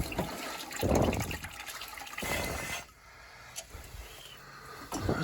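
Domestic water supply flowing back into a home's plumbing after a gas water heater valve repair, a broadband rush of running water that swells in two louder bursts then settles to a quieter trickle.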